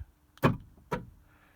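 Key fob locking a car's remote central locking system: two short, sharp clunks of the door locks engaging, about half a second apart, close and clear with no talk.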